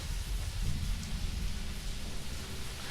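Steady rain from a storm outside a large, nearby window, a dense, even wash of rainfall that continues unbroken and fairly loud throughout.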